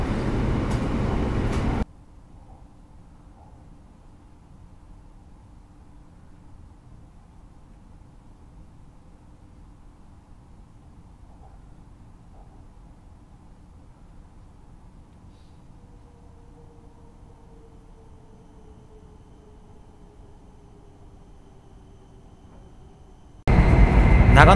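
Inside a Hokuriku Shinkansen Grand Class car running from Tokyo toward Kanazawa, a soft, steady low rumble fills the quiet cabin, framed by brief louder bursts of travel noise at the start and end.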